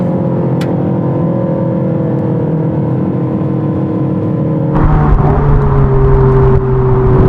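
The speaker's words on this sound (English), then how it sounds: "we'll just drop it back a gear or 3 to make it sound dramatic" A Ford Focus ST engine heard from inside the car: a steady droning hum that, after a downshift, rises into a louder, rougher, more strained note and holds there to the end.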